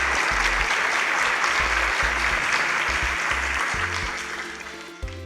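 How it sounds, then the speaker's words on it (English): Steady audience applause for a panel of three at a stage event, dense and sustained throughout, with a low hum underneath, tapering slightly near the end. "Please a round of applause for our panelists."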